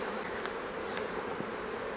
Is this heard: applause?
no